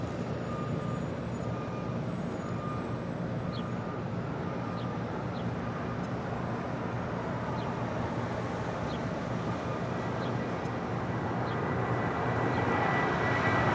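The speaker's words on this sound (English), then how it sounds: "Latam Airlines Flight 602 coming in from Santiago in the 787-8 Dreamliner landing here on 25 left." A Boeing 787-8 Dreamliner on Latam Airlines, arriving from Santiago, lands on runway 25 left at Los Angeles International Airport, its engines giving a steady distant rumble and whine that swells slightly near the end, with faint periodic beeps behind.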